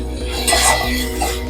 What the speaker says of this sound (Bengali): আর একটু ভাজা ভাজা হয়ে যাক মশলাটা